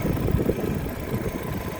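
A 2009 Opel Zafira with a 1.6 petrol engine idles smoothly and steadily, a low, even hum heard up close with no voices.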